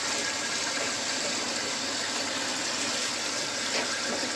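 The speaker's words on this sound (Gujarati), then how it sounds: "ગરમ પાણી પણ આવે, ઠંડુ પાણી પણ આવે." Water gushes steadily into a washing machine as it fills, a loud, even rushing that continues without a break and with no voices.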